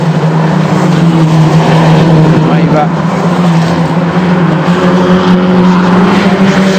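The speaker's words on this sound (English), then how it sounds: "this is the fight for 8th, as you can see, between the Lema Racing Team car, teammate to Pecard" Race cars battle for eighth place at the Nürburgring, including the Lema Racing Team car, their engines a steady, loud, continuous drone throughout, with a commentator talking over the track noise.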